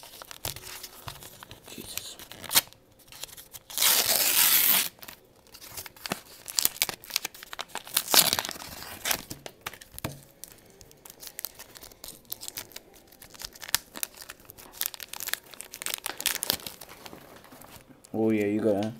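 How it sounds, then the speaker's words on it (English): Tightly taped trading card mystery packs being torn open, with bursts of ripping tape and crinkling wrapper scattered through the clip, loud and close, alongside speech. "I cannot open these things. I taped these things way too tight."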